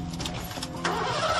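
A car engine starts and revs as the car pulls away fast, a short close mechanical burst that rises in loudness partway through.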